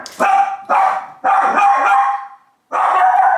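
A dog at home barks repeatedly at a package delivery, three sharp loud barks in quick succession, then a pause before another bark, close and alone.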